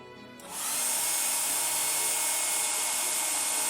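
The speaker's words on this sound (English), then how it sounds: "my apologies for the hair dryer noises" A hair dryer used to warm film developing chemicals switches on and blows with a loud, steady whooshing roar that holds constant, close by.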